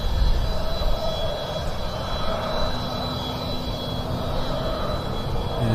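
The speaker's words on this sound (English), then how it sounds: "A Grob 120 TP backtracking for departure there." A Grob 120 TP light trainer backtracks along the runway for departure at an air show, its steady engine drone and whine holding evenly throughout, moderately loud at middle distance.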